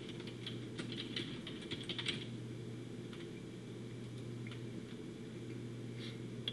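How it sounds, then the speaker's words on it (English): Soft, scattered keystrokes on a computer keyboard as a name and email are typed, quiet and close in loose irregular clusters over a steady low hum. "You can type in your first name, your last name,"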